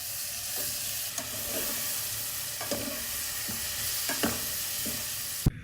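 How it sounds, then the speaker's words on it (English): Chopped vegetables frying with spices in a pan, a soft continuous sizzle and hiss with occasional stirring scrapes, close, ending in an abrupt knock, no voices. "Let the spices wake up for a few seconds, then add your chopped veggies."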